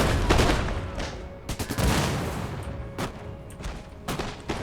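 Musket volleys and cannon fire crash out repeatedly in a Total War: Empire battle, loud bursts of gunfire and booms rolling one after another with no talk over them.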